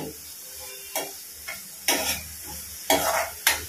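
Washed, finely chopped vegetables frying in a pot for vegetable soup, with a soft sizzle under intermittent scrapes and clatters of a spoon stirring against the metal.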